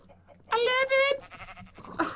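A Minecraft sheep gives one loud, nasal bleat from the video game, followed by a brief stretch of someone talking and a final short burst of sound.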